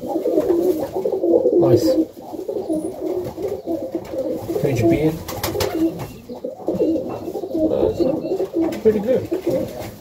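Pigeons coo in soft, repeated throaty rolls at a loft on a cold Melbourne morning, while someone talks intermittently over them.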